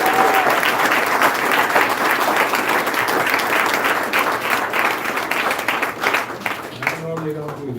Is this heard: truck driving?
no